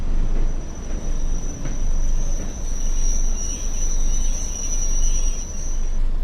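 Train arriving into a station on the Northern Trans-Pennine route in Train Sim World, heard as a steady loud rumble of running gear with a long, thin high whine held across the whole stretch, no talk over it.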